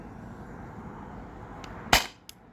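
A CO2-powered air gun fires a single sharp shot that is weak from running low on gas, a brief crack over a steady background hiss, followed by a faint small click.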